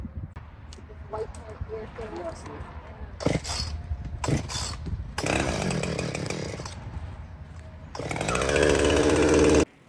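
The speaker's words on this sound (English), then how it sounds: "we are cutting down forsythia" A chainsaw cuts down forsythia bushes while invasive plants are cleared, roaring in several loud bursts of rising and falling engine noise. People talk in the gaps between the cuts.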